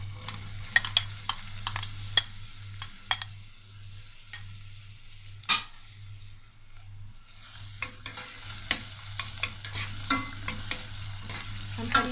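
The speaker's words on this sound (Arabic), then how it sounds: "هنسخنها شوية وهنحط عليها شوية زيت، وبعد كده هننزل بصلاية كبيرة متقطعة حتت صغيرة" Chopped onion frying in hot oil in a pan gives a steady soft sizzle, broken by repeated sharp scrapes and clacks as it is stirred, with no talking.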